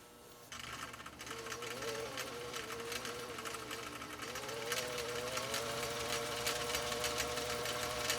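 A Husqvarna Viking sewing machine whirs with a steady mechanical hum and fast needle clatter, starting after a brief pause and gradually picking up speed, clear and close with no talking.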